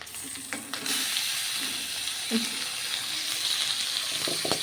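A quarter kilo of mutton goes into a pan of hot ginger-garlic paste, and a soft sizzle swells into a steady, fairly quiet frying hiss with a few stirring knocks.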